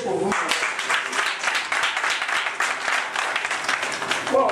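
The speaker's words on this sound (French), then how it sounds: "Applaudissez pour vous." Applause fills a gathering of Togo's national electricians' union as a new executive board takes office, a dense steady crowd clapping throughout with voices mixed in.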